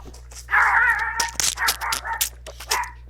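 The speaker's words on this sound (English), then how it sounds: "Oh, my dog is freaking out." A dog barks and yips in a run of sharp, close bursts, some drawn out into whiny yelps, breaking up an otherwise quiet room with a faint low hum underneath.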